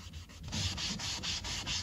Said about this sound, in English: I'm using that 220 grit sand sponge, the same one that I would use on my prep work if I had any bumpy spots